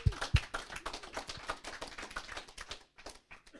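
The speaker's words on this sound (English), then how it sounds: "Can we just get a round of applause for that?" Scattered hand clapping from a small audience at a Laravel developer meetup in Sydney, a loose round of applause of uneven claps that thins out and fades after a few seconds.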